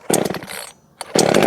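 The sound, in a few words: Craftsman chainsaw running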